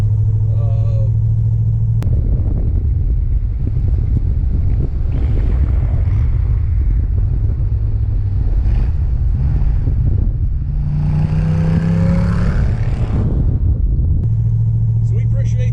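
An all-original 1967 Corvette Stingray coupe with side pipes and a four-speed rumbles steadily while cruising in fourth gear, a loud low engine drone with wind buffeting throughout and a brief rising rev near the end.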